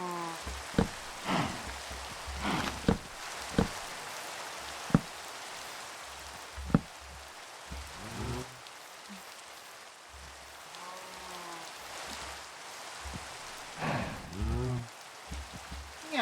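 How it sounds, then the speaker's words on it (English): Rain falls steadily in a survival video game, a soft patter of drops with scattered louder splashes and occasional game sounds, no talking. "It's raining again."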